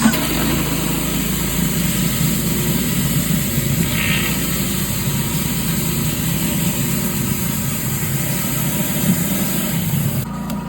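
A pressure washer runs with a surface cleaner attached, a loud, constant engine drone with a steady spray hiss that continues unbroken for about ten seconds before cutting back slightly at the end.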